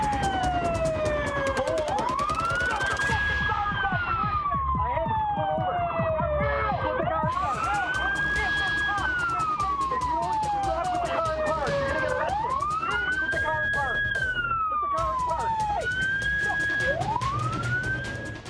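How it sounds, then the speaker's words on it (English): Police car siren wailing loud and close in repeated rising-and-falling sweeps through a high-speed pursuit, with engine and road noise underneath throughout. "Turn off your siren."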